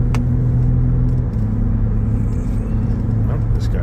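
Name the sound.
truck engine driving up a hill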